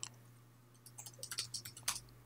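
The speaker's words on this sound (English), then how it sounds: "Typing in each one as you go" Computer keyboard typing and mouse clicking while a service blueprint is built in the Mural online tool: faint, quick clusters of light clicks and key taps in an irregular rhythm over a low hum, with no voices.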